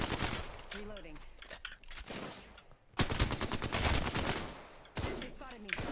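Automatic gunfire in Apex Legends rattles in dense bursts across most of the stretch, loud and close, with a brief lull near the midpoint before the shooting resumes; a player's voice is heard over it.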